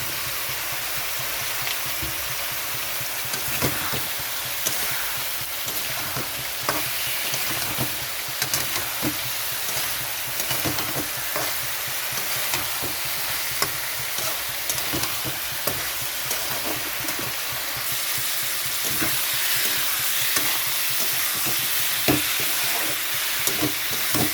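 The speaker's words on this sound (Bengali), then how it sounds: "এখানে আমি ঝিঙেগুলো দিয়ে দিচ্ছি" Ridge gourd fries in a pan with a steady, crackling sizzle, broken by repeated scraping stirs and clinks of a utensil throughout, close-up with no talk.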